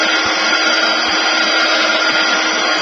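A continuous, loud, close blast of air from a heat gun drying glitter on a craft gift box, holding steady throughout with no voices.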